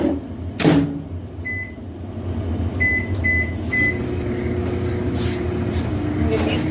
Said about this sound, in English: get this in the microwave